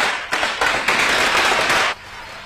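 Firecrackers bursting nearby in a residential colony, a quick run of loud crackling pops that merge into a dense rattling burst for about two seconds, then stop.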